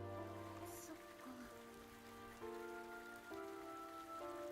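Rain falls in the video game Psychedelica of the Black Butterfly as a soft, steady patter, faint and continuous beneath sustained musical tones.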